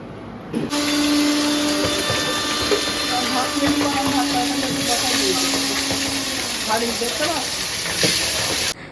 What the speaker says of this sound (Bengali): এই যে এখানে আমি ভাজা মশলা গুঁড়ো করলাম